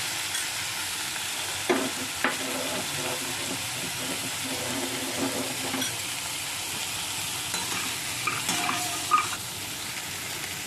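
Vegetables frying in a pan with quarter spoon of turmeric powder for a Bengali stem-vegetable sabji, steady sizzle under repeated spatula stirs and scrapes, several sharper knocks scattered across the stretch, no talking.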